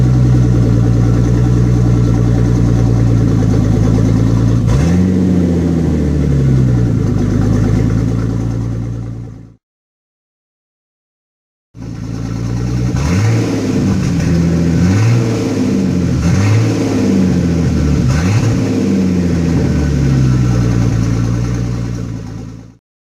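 A 1970 Datsun 240Z with an L28ET turbo engine starts warm, idles roughly, then revs repeatedly in loud close bursts, with a short silent break before the engine runs and revs again.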